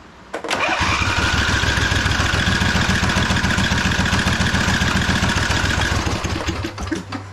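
A 2005 Husqvarna YTH2448 ride-on lawn mower engine cranks steadily on a good battery for about six seconds, a loud, fast rhythmic churning that never catches, then cuts off; the carburetor is suspected faulty.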